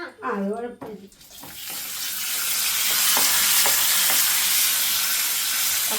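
Papaya payasam stirred with a ladle over steady frying sizzle and bubbling, after a short burst of voice at the start; the sizzle stays loud and continuous to the end.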